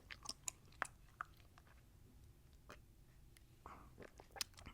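Gum chewing recorded close for ASMR: soft, irregular wet smacks and crunchy clicks, a few sharper, come and go over a quiet background with no talking.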